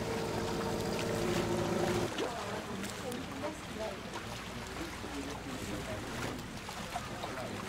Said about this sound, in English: A longtail boat.